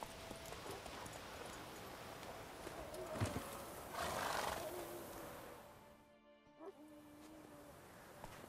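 Roach the horse from The Witcher 3 video game, with soft hoof clip-clops and a low horse snort or whinny under faint ambient game sound, fading briefly toward the end.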